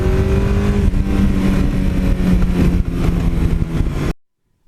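Suzuki GS1100E motorcycle engine revving hard, a loud, continuous close-up roar with rising pitch and a short dip before cutting off abruptly into silence.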